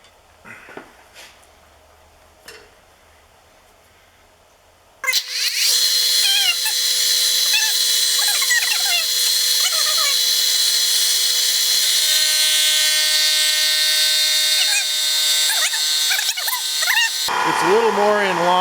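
A machine tool cuts a metal workpiece held in a mini fixture, a steady loud whine with shifting squealing tones running for about twelve seconds, preceded by a few quiet knocks and followed by a different noisy burst.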